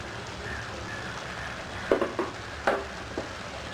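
Carrot halwa being stirred in a pan after a spoonful of ghee goes in, a soft steady sizzle with a few sharp scraping and clinking strokes of the spoon near the middle and end.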